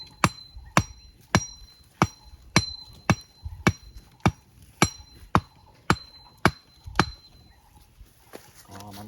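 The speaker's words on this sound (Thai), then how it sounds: "ตอนนี้พี่เบิร์ดก็จะตอกนะ" Steady hammer strikes ring out one after another, about a dozen sharp blows at a regular pace, each with a bright metallic ring.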